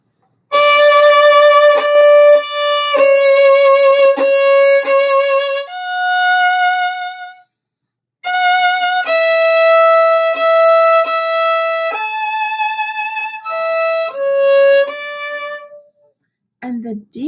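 Solo bowed string instrument playing the melody of O Come, Little Children, with a crescendo building through two phrases of sustained notes; close, clear and unaccompanied, with a short pause mid-way and a brief noise at the end.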